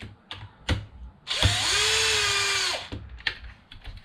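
A power drill whirs steadily for about a second and a half, working screws loose on a Traxxas X-Maxx RC car's upper bulkhead during a differential service, framed by small clicks and clatters of parts and tools close by.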